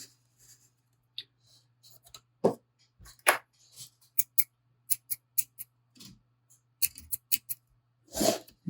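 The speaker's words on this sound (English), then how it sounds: "Scissors are getting dull." Sharp metallic snips of dull scissors cutting thread during custom fishing rod building, a scattered series of quick clicks and cuts close by, some in quick succession, over a faint steady hum.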